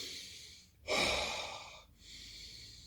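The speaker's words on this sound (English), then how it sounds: "Take a few nice deep breaths in." A person takes slow, deep breaths after foam rolling the middle back. One long, close inhale is followed by a second breath after a short pause, and no one speaks.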